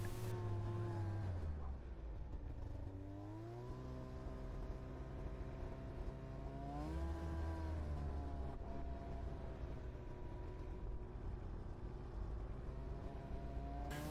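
A snow machine ridden through remote Alaskan property, its engine droning steadily and shifting pitch as it speeds up and slows, continuous and close throughout.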